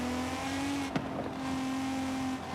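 An all-wheel-drive TVR on off-road tires in Forza Horizon holds a steady, loud engine and exhaust drone, with a brief sharp transient partway through before the note carries on evenly.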